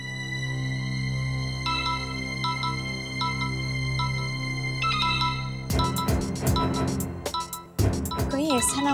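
A phone rings indoors, its short melodic ringtone pulses repeating at regular intervals over a sustained musical drone, before the ringing gives way to louder voices speaking.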